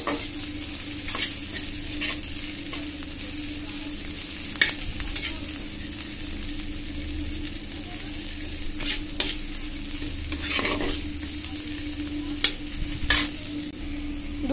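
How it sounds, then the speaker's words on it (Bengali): Onions and slit green chillies fry in a pan for a dal with taro, a steady close sizzle with scattered spoon scrapes and stirring clatter throughout. "পেঁয়াজ আর কাঁচা লঙ্কাটাকে খুব ভালো মতো ভাজা ভাজা করে নিতে হবে।"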